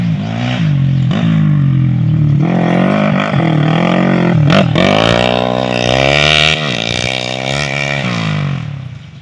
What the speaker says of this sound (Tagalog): Daming motor kasi.